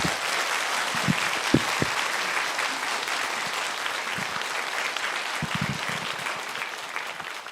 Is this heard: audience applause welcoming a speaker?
yes